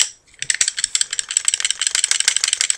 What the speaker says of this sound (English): you can hear the barrel rattling around